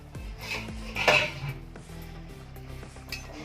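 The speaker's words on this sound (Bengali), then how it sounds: "ঢাকনাটা খুলে দেবো" A metal lid comes off a pot of simmering hilsa fish curry with a bright clink and clatter, followed by quieter pot and utensil sounds at close range.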